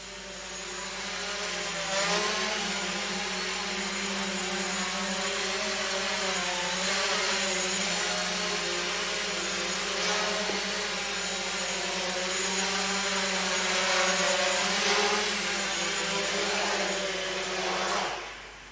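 Small Bugs 3 drone propellers spin on 10amp ESCs inside a Bugs 6 shell, giving a steady close buzzing whine with slight rises and dips in pitch that lasts throughout before cutting off at the end.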